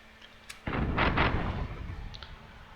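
A single ship's cannon in Tortuga: A Pirate's Tale goes off sharply near the middle, followed by a heavy rolling boom that decays over about two seconds, with faint ambient game sound and no talk.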